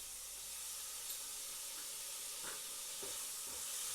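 Ginger and garlic frying in hot oil with asafoetida, a steady broadband sizzle with a few soft stirring scrapes, close and fairly quiet.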